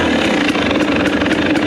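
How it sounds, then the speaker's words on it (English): A motorcycle engine runs loud and close during off-road riding in Georgia, a rough, steady drone with rapid pulsing bursts and no pause. "Love this bike."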